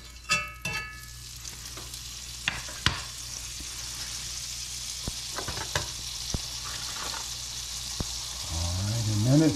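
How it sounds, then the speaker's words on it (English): A chunk of butter sizzles in a frying pan with a soft steady crackle, after a few sharp clatters of utensils near the start. "I'm gonna add a nice chunk of butter."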